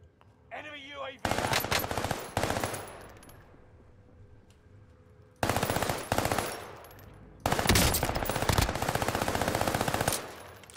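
Armaguerra SMG fires in long, loud rapid-fire bursts in a video game, three sustained strings of shots separated by quieter gaps, with a brief voice at the start.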